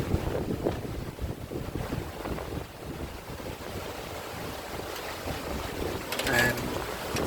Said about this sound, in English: We're having a cracking sail.